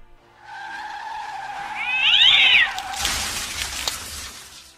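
A domestic cat meows loudly and close, a drawn-out cry rising and bending in pitch, followed by a burst of broadband noise.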